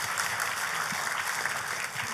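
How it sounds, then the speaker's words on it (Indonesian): Church congregation clapping during a worship service, a steady wash of applause at a moderate distance, fairly faint and uniform throughout. "Kasih tepuk tangannya yang paling meriah buat Tuhan kita."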